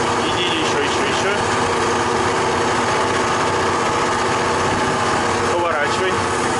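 A KhTZ-17221 tractor engine runs steadily throughout with a constant rumbling drone during cultivation, while a man calls out instructions over it.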